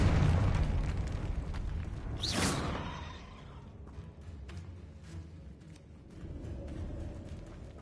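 Spellcasting in Hogwarts Legacy on PS5 as a Confringo fire spell goes off: a loud whooshing burst around two seconds into a rumbling game soundscape, then fading into quieter ambience that swells again near the end.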